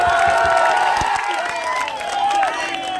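Large rally crowd clapping and cheering, a steady dense wash of sound running throughout under a loud public-address voice with ringing tones.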